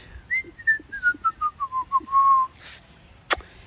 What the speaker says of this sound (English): Sing the theme tune, whistle the theme tune.